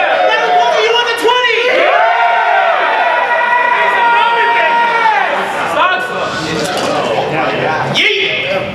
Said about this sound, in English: Round of applause if you won the 12.